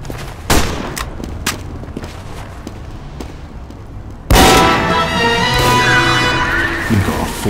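Video game gunfire in a team-based PvP match on an orange map, with scattered sharp shots early on, then a sudden loud burst of dense, sustained firing and clatter that carries on to the end.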